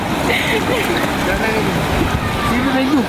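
Sea waves break and wash up at a beach in a steady, loud roar with wind buffeting, while voices talk over the surf close by.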